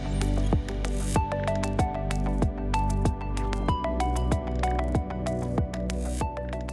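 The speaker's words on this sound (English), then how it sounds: "Just as the isopropanol starts to drip through" Isopropanol dripping through a chromatography column into a glass vial, a regular series of small sharp plinks and drips falling about once a second, close and distinct with no talking.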